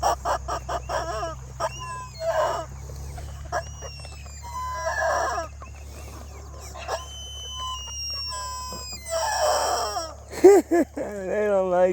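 Chickens on an early-morning homestead cluck repeatedly and a rooster crows, the bird calls close and fairly loud over a steady low hum, with someone talking briefly in between.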